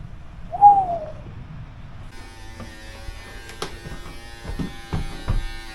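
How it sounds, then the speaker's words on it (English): An electric beard trimmer cutting a beard gives a steady, close buzzing hum, with a brief hoot-like tone before it and soft handling knocks through the buzz. "I'm trying to trim my beard so I look Amish"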